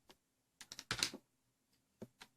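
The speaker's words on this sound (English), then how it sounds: "So I press keys randomly" Computer keyboard keys pressed at random during a serial loopback test, a few close, quiet clicks in an irregular cluster, a brief rapid burst, then scattered single taps in a silent room.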